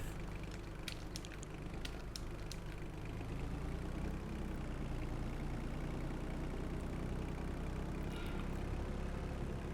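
A small tractor engine idles steadily in Farming Simulator 25, a constant low rumbling drone with a few faint ticking clicks near the start.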